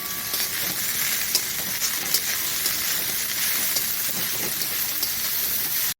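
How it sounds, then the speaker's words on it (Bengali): Cabbage frying with salt and turmeric in a home kitchen, a dense, loud, continuous sizzle with scattered scraping stir clicks throughout, heard up close without talk. "নুন দিলাম, একটু হলুদ দিলাম, দিয়ে ভালো করে নেড়ে নিই"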